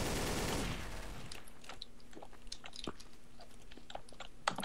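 Gunfire crackles in Garry's Mod Trouble in Terrorist Town on a Terraria-themed map, a loud rush of noise giving way to scattered sharp shots and pops at varying distances.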